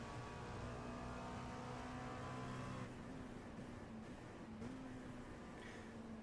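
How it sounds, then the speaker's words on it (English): LMP2 prototype race car at full throttle on the Daytona circuit, heard from inside as a loud, continuous high-pitched engine drone that holds steady and shifts pitch slightly partway through. "So this is obviously full throttle through here."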